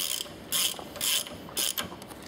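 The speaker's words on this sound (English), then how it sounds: "Now I'll use a trusty socket set to wind everything nice and tight." Ratchet socket wrench tightening plunger nuts during a C1 kitset install: three close, crisp clicking strokes followed by a few shorter clicks, no talk.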